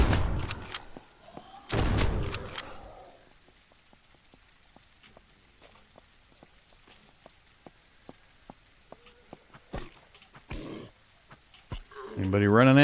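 Gunfire in the Surroundead open-world zombie survival game as the player shoots an acid zombie: loud bursts of shots near the start, then a patter of light rain-like ticks and a few more sharp hits, with a voice talking in places.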